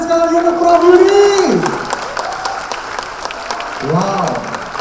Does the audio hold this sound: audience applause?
yes